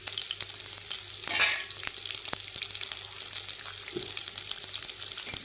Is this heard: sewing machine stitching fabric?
no